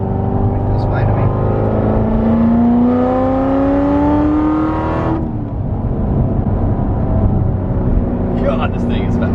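A Corvette Z06 engine revs up hard, pitch climbing steadily through a gear before dropping off, loud and close from inside the car, with a voice speaking briefly near the end.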